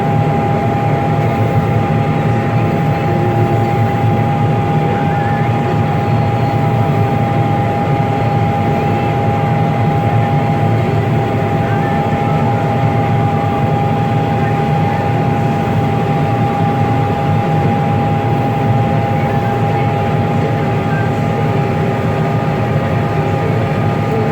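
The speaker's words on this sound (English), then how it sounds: "Straw chopper." A combine harvester's straw chopper drones steadily and loudly, a constant mechanical whir with a sustained hum, unchanging for the whole stretch.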